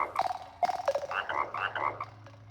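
Frogs croak in the video game ENA's Dream BBQ: a quick, irregular chorus of nasal, bubbly croaks over a couple of seconds, close and fairly loud with no voices.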